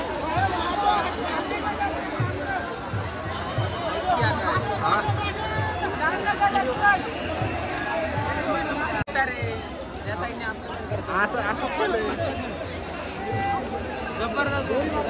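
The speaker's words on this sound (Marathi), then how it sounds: "गर्दी गर्दी नुसती गर्दी." A dense crowd chatters at a pilgrimage procession, a continuous murmur of many voices overlapping at moderate loudness with footsteps and movement mixed in.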